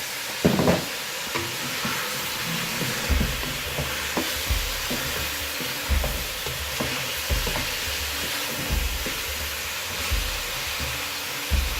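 Chicken karahi fries on a high flame after being turned, with lemon juice added, giving a continuous loud sizzle broken by periodic low thumps and scrapes of stirring.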